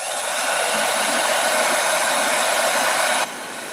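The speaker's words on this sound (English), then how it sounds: "So that does go pretty fast when you use a dryer. I just use my heat tool real fast." A heat tool blasts steadily while drying a handmade vintage-style Christmas ornament, a loud, even whooshing hiss of fan and airflow up close that runs for about three seconds and then cuts off abruptly.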